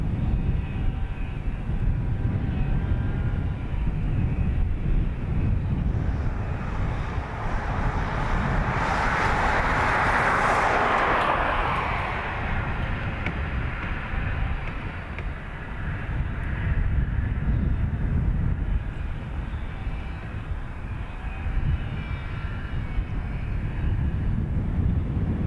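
Jet engine roar of an airplane taking off from runway 28 right at Dublin Airport, a broad sustained rumble heard from a distance that swells and fades over about half a minute with no talk.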